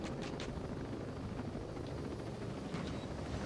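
A video game helicopter landing in Ghost Recon Breakpoint: steady rotor thrum and engine roar fill the clip continuously, loud and close, with faint higher chirps over the din.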